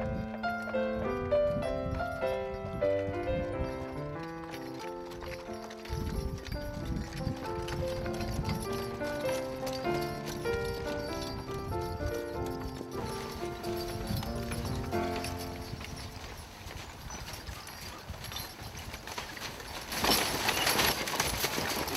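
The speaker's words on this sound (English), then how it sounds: "These are Belgian horses." Belgian farm horses clip-clop along at a steady walking pace, hooves knocking close and clear while music plays over them.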